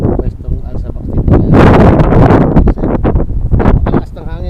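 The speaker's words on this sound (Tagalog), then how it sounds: "napakalakas ng hangin niya" Strong wind buffets the microphone in loud, roaring gusts, with a voice speaking briefly underneath.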